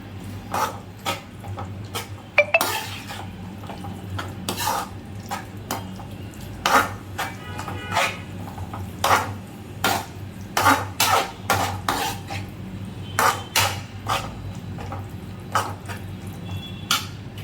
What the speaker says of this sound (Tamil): இப்போது நம்ம பொரிச்சு வச்சதை போட்டு சேர்த்துக்கலாம். நல்லா கிண்டி விட்டுருங்க.